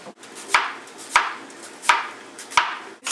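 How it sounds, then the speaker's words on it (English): A knife slices through a white onion on a cutting board, giving four crisp, evenly spaced chops that ring out close and clear, each followed by a short scraping trail. "We sliced up a white onion."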